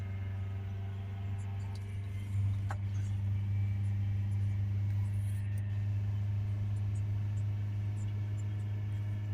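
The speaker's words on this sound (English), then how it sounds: "Let's hold it up to 3000 RPM or thereabouts." A 2020 Ford Transit Connect 1.5 TDCi diesel with a blocked particulate filter idles up and is held near 3000 RPM, giving a steady, low, fairly quiet drone that firms up slightly after a couple of seconds.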